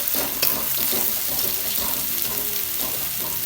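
Onions browning in a pan over full gas flame, a steady dense sizzle and crackle with soft stirring scrapes running throughout, close and continuous with no talking.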